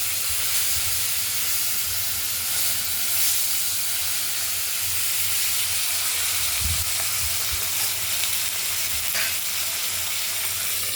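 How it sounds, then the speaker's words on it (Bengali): Salted, turmeric-coated katla fish pieces fry in oil in a kadai, a steady close sizzle and hiss with soft crackles and one brief low bump, no voices. "কেটে দেওয়ার পর ভাজা হচ্ছে কড়াইতে"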